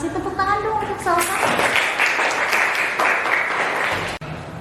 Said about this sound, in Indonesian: terima kasih, tepuk tangan dong untuk Salsa.